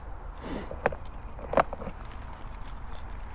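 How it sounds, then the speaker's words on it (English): Keys jangle twice in short bright bursts as they are pulled out before a motorcycle ride, close by and otherwise quiet apart from a low steady background rumble. "Keys pop out."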